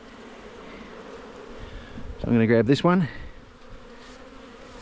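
Honey bees buzz around a backyard hive during a March honey harvest, a steady faint hum behind a man's speech that swells into a loud, close, wavering drone for about a second as a bee passes near.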